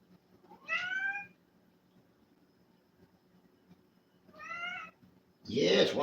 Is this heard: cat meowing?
yes